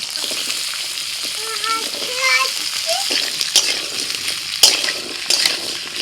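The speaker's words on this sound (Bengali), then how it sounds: "এবার দিয়ে দিচ্ছি আলু।" Potatoes dropped into hot oil with nigella seeds and slit green chillies, a busy crackling fry with splashes and a metal clink, while a short whistling tone and a voice sound faintly in the background.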